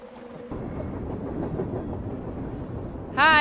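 A train ride in the video game Darkness Within 2, heard as a steady rumbling rattle of rolling carriages that holds evenly throughout, with a sudden louder burst of sound at the very end.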